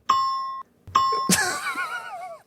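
A two-tone doorbell chime rings twice, the first ding-dong clean and sustained, the second cut into by a sudden burst of excited voices and laughter.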